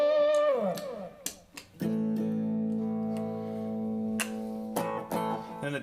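Electric guitar played through a dynamic distortion pedal, a Tube Screamer and Fuzz Face hybrid, giving fizzy fuzz tones: sustained distorted chords and single notes ringing alone, with a few short picked accents.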